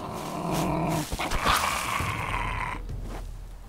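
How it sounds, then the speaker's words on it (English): A dog growls in the Survival Fountain of Youth video game, a steady low rumbling snarl with a brief yip-like burst partway through, fairly loud and close, heard alone without talk. "Oh, there's a dog somewhere. You can hear it."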